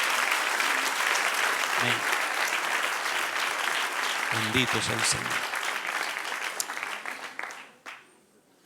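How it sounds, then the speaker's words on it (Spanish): Church congregation applauding after a sermon, a sustained broad wash of clapping with spoken words and voices heard over it, fading out toward the end. "Denle un aplauso al que reina y vive."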